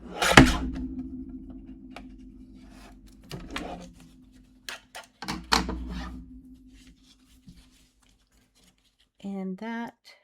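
Scissors cut diagonally across a paper card, making a few crisp snips and soft rustles spread over several seconds, with short bursts of talk at the end.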